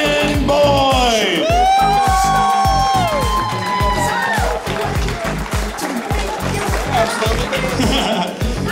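A comedy club audience at a funniest-person contest in Houston cheers, whoops and applauds loudly for the winner, with continuous clapping and shouts and a host's voice over the crowd.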